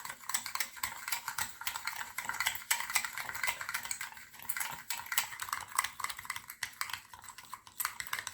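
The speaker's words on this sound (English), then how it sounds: "To this now we need to add the sugar and beat again till the sugar is completely dissolved." Sugar is beaten into a sweet batter in a bowl, a quiet, fast, steady clicking and scraping of a whisk or spoon against the sides, soft and close, with no talk.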